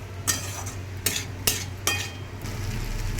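Chana paneer frying with spices, several sharp clanks and scrapes of a spatula stirring in the pan over a low steady sizzle, near and without talk.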